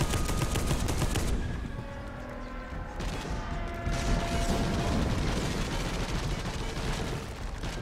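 Enemy gunfire in the Space Hulk: Deathwing game rattles on loud and nonstop, a dense mechanical barrage with no talk over it.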